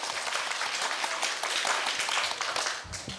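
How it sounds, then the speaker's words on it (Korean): A school speech contest audience gives a student presenter a big round of applause, dense clapping from many people that holds steady and then tapers off near the end. "큰 박수 부탁드립니다."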